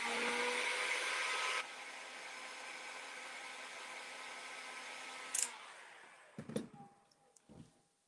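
Heat gun warming WoodUbend decorative moulding pressed onto a dresser, a steady close blowing whoosh that runs loud for a couple of seconds, then continues lower before cutting off into a few scattered handling knocks.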